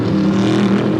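Sports sedans, including a 5.8-litre V8 Holden Monaro and a 5-litre V8, race at Calder Park in 1983, a loud, close, steady engine drone with no talk.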